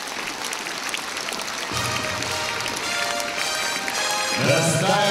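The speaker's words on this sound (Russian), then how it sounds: "Раздают аплодисменты." Crowd at a military parade ground applauds in a broad, continuous patter that swells slightly midway, with a voice speaking over the clapping toward the end.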